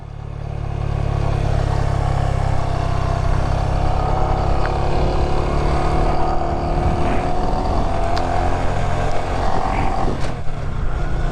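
A Honda Grom motorcycle carrying a passenger, its small engine giving a steady, loud, continuous drone with rushing wind, heard from on board and holding an even pitch throughout.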